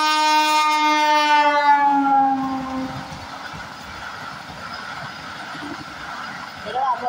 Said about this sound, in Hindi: ट्रेन आसीगला बर्तमान वंदे भारत